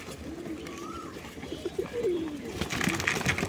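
Pigeons of a hunting breed coo nearby in low, soft rolling calls, with wing and shuffling noises rising toward the end.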